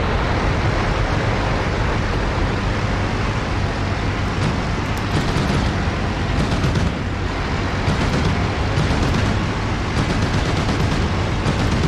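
Rapid sustained gunfire from an armoured personnel carrier's mounted weapon in the DCS World combat simulator, loud and continuous bursts over a steady engine rumble, with no talk.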